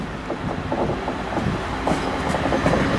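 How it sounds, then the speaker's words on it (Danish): An InterCity IC3 passenger train bound for Hamburg rolls past steadily, with rail clatter and a faint wheel squeal over a continuous rumble, heard fairly close. "Her har vi vist IC-toget til Hamburg"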